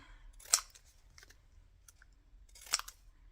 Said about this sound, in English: with my pinky shears to give it a bit of interest